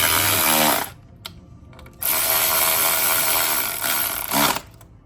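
Ratchet wrench loosening a bolt on a BMW M3 E46, heard as close, loud bursts of rapid ratcheting clicks: a short run, a pause, then a longer steady stretch that ends in a final burst.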